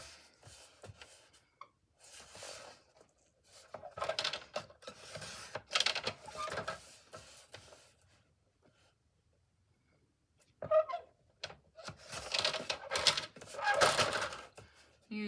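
Paper trimmer slicing scrapbook paper, giving several bursts of dry sliding and scraping strokes separated by short pauses, close and moderately loud with no talk.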